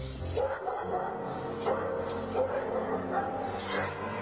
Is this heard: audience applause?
no